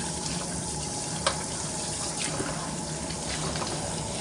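Water running steadily from a kitchen tap while saba bananas are washed, a continuous close splashing stream with a faint clink.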